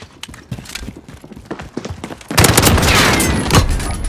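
Video game gunfire, likely Call of Duty: sharp separate shots and rattling bursts come first, then a loud sustained volley of rapid fire with a rushing blast behind it.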